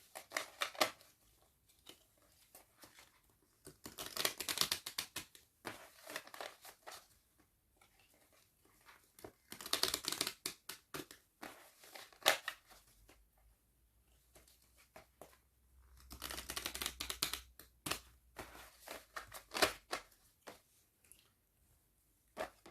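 A 32-card deck shuffled by hand in bursts, three or four riffling, rustling passages separated by quiet pauses, close and moderately loud, no voices.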